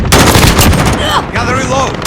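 Rapid gunfire from a Modern Warfare Ground War match, loud and dense, with bursts of shots layered over game effects and a brief voice callout near the end.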